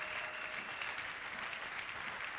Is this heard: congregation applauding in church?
yes